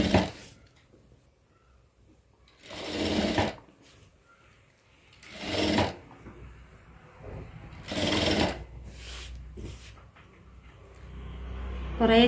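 Sewing machine stitching small pleats into a petticoat: several separate bursts of fast mechanical whirring, each a second or so long, with quiet pauses between them, fairly close.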